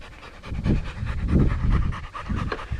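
A young bird dog puppy pants close to the microphone in quick, rhythmic breaths, loud and alone without talk.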